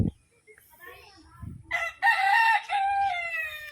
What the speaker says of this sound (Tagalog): Polish chicken.